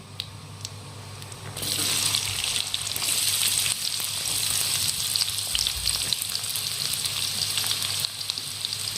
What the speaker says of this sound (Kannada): ಉಳ್ಳಾಗಡ್ಡಿ ಹೈ ಫ್ಲೇಮ್ ಒಂದು ಸ್ವಲ್ಪ ಕೆಂಪಾಗಬೇಕು ನೋಡ್ರಿ ಆ ಥರ ಸುಲಭತೆಗೆ ಫ್ರೈ ಮಾಡ್ಕೊಳ್ಳೋಣ್ರಿ